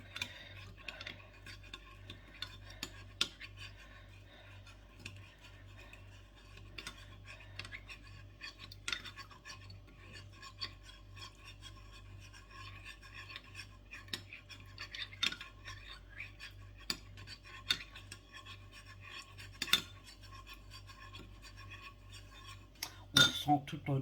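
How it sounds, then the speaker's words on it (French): Faint, quiet clinking and scraping of a utensil stirring a yeast mixture in a bowl, irregular light taps and clicks scattered over a low hum, with no talk. "Ensuite, on va mélanger le tout."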